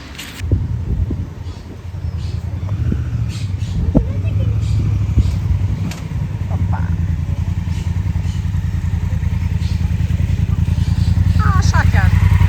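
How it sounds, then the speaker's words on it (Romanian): A motorcycle rolling onto a road in Spain during an Iberian tour, its engine a loud, steady low rumble with clattering and thumps, running continuously throughout. "Și motocicleta noastră coboară cu roțile, atinge Spania, pământul Spaniei,"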